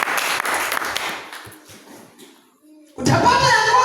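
Congregation in a Swahili-language church sermon breaks into loud, dense applause and clapping that starts abruptly after a pause in the preaching and continues steadily to the end.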